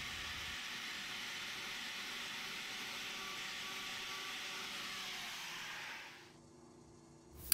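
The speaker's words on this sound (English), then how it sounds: "so that's what I'm doing here with the grinder." Grinder trimming and thinning a split cow's hoof runs as a steady, loud whirring hiss for about six seconds, then cuts off abruptly, leaving quiet with a brief click at the end; no one talks.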